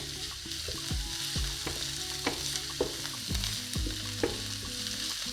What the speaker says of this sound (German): Wenn das Olivenöl warm ist, dann fügen wir die Frühlingszwiebel und den Knoblauch zu.